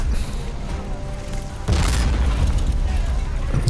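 A Matilda tank blows up in a Men of War: Assault Squad 2 battle, a loud booming blast bursting in midway over steady rumbling combat noise.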